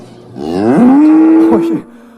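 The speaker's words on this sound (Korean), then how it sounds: "소 울음소리가 들려왔습니다." A cow lets out a single loud, close moo as a sound effect, rising and then holding a long low tone before it cuts off.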